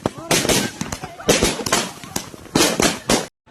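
Firecrackers burst at a New Year celebration, a quick irregular series of loud sharp cracks and pops, close by, with voices underneath.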